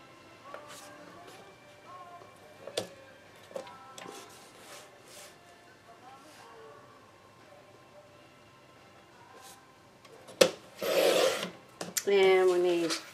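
Scissors rasp through paper while strips just under three quarter inch wide are cut for a scrapbook album, soft scraping and ticks at first, then louder bursts of cutting and rustling near the end.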